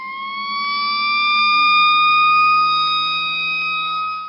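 A fire engine siren holds a long, steady wailing tone that swells and then eases slightly, sounding alone with no voices.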